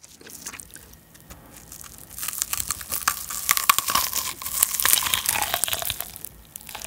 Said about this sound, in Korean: 콜라겐층이 날아가서 약간 바스러지는 소리는 나는데 바삭 소리는 안 나잖아요?